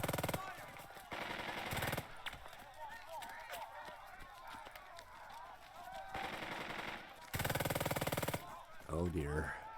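Machine-gun and rifle fire rattles through a battle in the tactical war game Burden of Command, coming in loud repeated bursts separated by quieter stretches, with voices mixed in.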